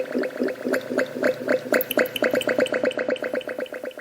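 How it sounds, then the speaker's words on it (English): Fermenting cider bubbles steadily in a vessel, producing rapid, closely spaced plops and gurgles in an irregular stream, close and clear with no talk. "It's music to my ears at this time of year, the bubbling sound of fermenting cider."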